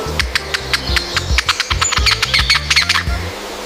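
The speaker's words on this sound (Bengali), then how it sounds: "কোকিল মিষ্টি ডাক দেয়।" A koel, a kind of cuckoo, calls repeatedly in quick succession, its sharp, close calls standing out over a steady background hiss.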